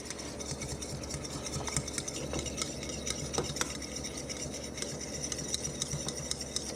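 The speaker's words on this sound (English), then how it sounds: "we're gonna get a fork and we're gonna scramble the egg" A fork scrambling an egg cracked directly on a plate, quick rhythmic scraping and light clicking of metal on the plate, close but fairly soft, with no talk.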